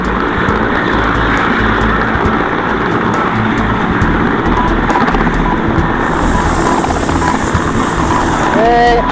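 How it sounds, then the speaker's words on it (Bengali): A helicopter lifts off over the Ganges at Farakka during para commando training, its loud continuous rotor and engine roar filling the scene while people talk over it. "তোমরা দেখছো হেলিকপ্টার উঠছে"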